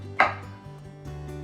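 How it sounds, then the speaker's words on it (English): A knife cuts through soft whole mushrooms on a board in a single quick, close chop, followed by a quieter background hum with no talking. "I'm going to cut the mushrooms up as well."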